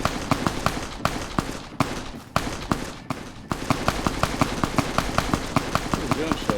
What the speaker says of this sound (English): Where's the gunshots coming